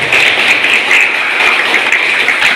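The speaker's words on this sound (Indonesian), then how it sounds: "Oke, tepuk tangan untuk Endang." Applause for a student named Endang from SMP Negeri 87 at a poetry talk, a dense, steady patter of clapping from a crowd lasting the whole moment, with no voices over it.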